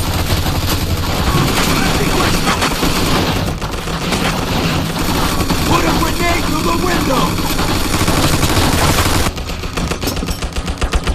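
Enemy machine gun fire in a World War II style shooter, sustained loud automatic bursts with booming impacts and a rumbling engine beneath, close and chaotic, with shouted voices mixed in.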